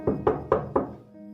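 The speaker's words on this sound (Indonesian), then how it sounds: "ada yang ngetok pintu kamar mereka" Four evenly spaced, dull knocks land on a bedroom door at close range in a quiet room, followed by a soft low hum.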